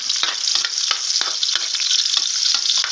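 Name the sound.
garlic frying in oil until golden brown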